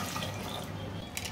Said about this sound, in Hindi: आधा गिलास पानी और डाल देती हूँ